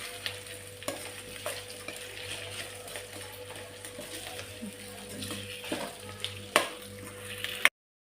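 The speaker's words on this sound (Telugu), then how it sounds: "చామగడ్డలు అనేది అవి ఆయిల్లో ఫ్రై కావాలి" Taro roots fry in hot oil for a village-style taro root curry, a continuous close sizzle with occasional knocks and scrapes of stirring.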